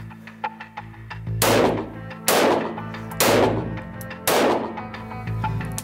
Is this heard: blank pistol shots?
yes